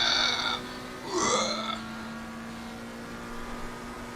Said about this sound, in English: Literally have to raise my voice to be heard over the McLaren engine.